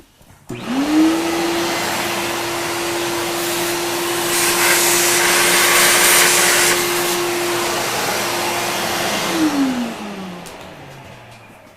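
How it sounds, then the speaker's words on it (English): Shop vacuum sucking metal chips out of a milling machine. The motor spins up sharply, runs loud and steady for about nine seconds with a hissing rush of air, then winds down at the end. "we get the vacuum so that we can suck out those chips there"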